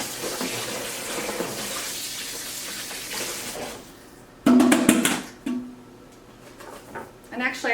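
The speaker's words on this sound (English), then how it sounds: "I'm going to go ahead and rinse out my bowl" A kitchen tap runs to rinse out a mixing bowl used for colored Halloween treat batter. The water is mostly masked under talk and background music, with a brief louder splash near the middle.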